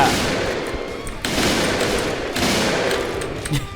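Rapid bursts of gunfire from the online shooter game Point Blank, with dense sustained firing running throughout and two sharp surges in intensity, no talk over it.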